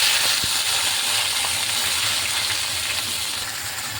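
Green chillies and black cumin seeds fry in hot oil for pointed gourd, a steady, loud hiss and sizzle throughout with a faint knock near the start.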